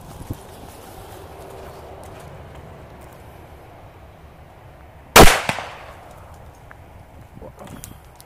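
After quiet outdoor ambience, a single Demon XX Large banger firecracker explodes with a sharp crack, followed by a brief echoing tail.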